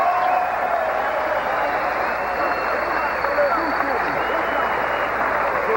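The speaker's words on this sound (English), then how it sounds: "let's have a nice round of applause for both of these fighters" Crowd applause for two boxers after a professional bout, a steady dense wash of clapping and murmur from a large arena audience, continuous and fairly loud with no single claps standing out.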